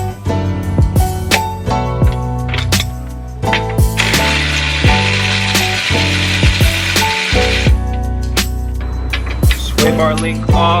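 Ratchet work on the suspension of a Nissan 350Z unbolting the sway bar link: rapid clicking ratchet bursts and metallic clanks close up, with a sustained grinding stretch midway and no talk.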